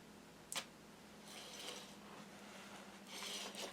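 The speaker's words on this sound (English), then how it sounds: "Once I pull the pin, you're going to start to hear the cords ratchet up and it'll start coiling." Cords on a CenturionRS cord widget ratcheting up and coiling, faint quick ticking clicks in brief clusters over low background hum.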